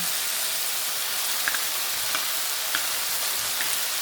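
Chopped banana blossom sizzles in a hot pan as a simple vegetable dish cooks, a steady hiss throughout with a few faint clicks and stirring knocks.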